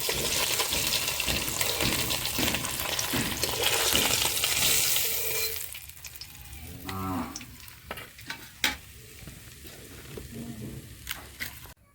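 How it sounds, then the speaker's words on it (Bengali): Hilsa fish lightly frying in oil, a loud dense sizzle for the first several seconds that then drops to a quieter crackle with occasional pops, while a cow lows briefly in the background. "এই মাছটা একটু হালকা করে ভাজবো।"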